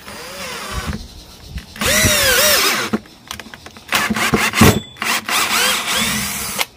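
An ordinary cordless impact drill bores into very hard wood, whining loudly in several bursts with pauses and short stops between, the motor straining and rattling up close.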